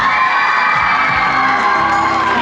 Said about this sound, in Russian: Давайте встретим их бурными аплодисментами.